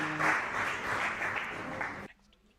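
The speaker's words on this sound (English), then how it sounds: "A round of applause, everyone." Audience applause at a two-day international college event in Una, Himachal Pradesh, as a professor is called to the stage: dense, sustained clapping from a crowd that stops abruptly just before the end.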